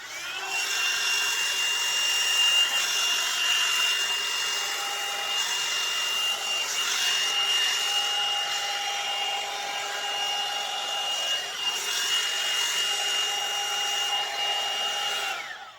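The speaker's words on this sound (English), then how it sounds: "use either a round brush and your blow dryer" A hair dryer runs continuously with a steady high whirring hum for the whole stretch, dipping briefly near the end before carrying on.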